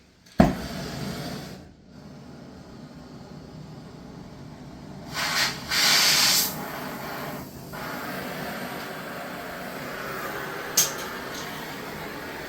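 A torch hisses steadily while heating the alternator bracket of a Ferguson TEA20 tractor, a moderate continuous roar of flame with a sharp pop at ignition and a few brief louder gas surges partway through.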